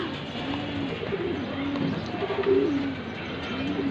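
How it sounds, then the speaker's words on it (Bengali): Racing pigeons, four female runners of the Janssen bloodline, coo in low repeated rolling calls close by, continuous over soft background noise. "জনসন ব্লাড লাইনের 4 পিস রেসার ফিমেল কবুতর, 4টা মাদি কবুতর, 4টাই রানিং মাদি কবুতর"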